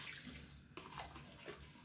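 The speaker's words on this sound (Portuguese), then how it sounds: "Vamos meter a água mesmo aqui." Water being poured into a cooking pot while making Angolan chicken muamba de ginguba, a steady splashing pour that runs continuously for about two seconds, close and moderately quiet, with no talking.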